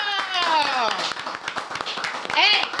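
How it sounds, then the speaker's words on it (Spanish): A burst of clapping hands with excited voices calling out over it, loud and close, the claps uneven and rapid. "¡Aplauso, aplauso, aplauso!"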